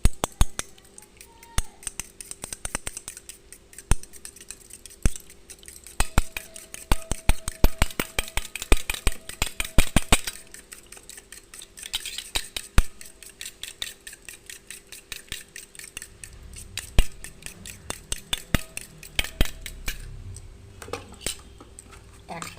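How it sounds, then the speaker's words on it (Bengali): Fork beating an egg mixture in a bowl, a rapid run of light metallic clinks and taps against the bowl, steady and close, fading at times and picking up again. "এবার আমি এটাকে একটা কাঁটা চামচের সাহায্যে ভালো করে এটাকে গুলিয়ে নেব।"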